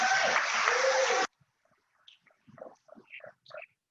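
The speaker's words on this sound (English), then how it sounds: "let's give Brandon a big round of applause" An audience at a Chicago Park District gathering claps loudly and densely for about a second, then the applause cuts off abruptly, leaving a few scattered murmurs and soft voices.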